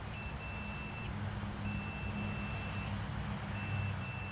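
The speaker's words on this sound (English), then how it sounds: "As you hear the beeping sound, so we have continuity" A multimeter continuity tester beeps while probing against the negative battery terminal of a 240SX with a KA24DE engine, giving long high tones broken by short gaps, fairly faint over a low background hum.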